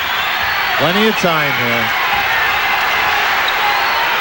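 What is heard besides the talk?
arena crowd cheering at basketball game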